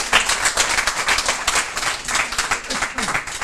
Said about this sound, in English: go on, give Kieran a round of applause there.